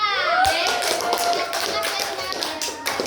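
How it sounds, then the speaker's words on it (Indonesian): A class of children claps hands together in rhythmic bursts, close and lively, with a rising voice at the start and chatter mixed among the claps. "Ya, tepuk tangan semua"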